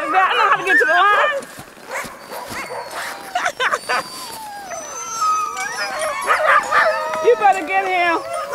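A team of sled dogs on the Salcha River, eager before mushing, barks, yips and howls in overlapping bursts close by, with a loud chorus at the start and excited whimpers throughout.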